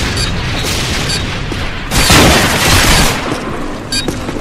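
A weapon fires in a first-person shooter game, with booming gunfire and bursts of shots over constant noise and the heaviest blasts clustered in the middle.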